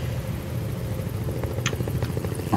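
A helicopter in the video game Project Zomboid drones steadily at a distance, a continuous low rotor rumble with faint clicks over it.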